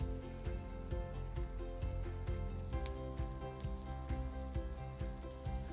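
Chicken marsala sauce made with mushroom essence sizzles and reduces in a pan, a steady close frying hiss with faint stirring clinks and no one talking.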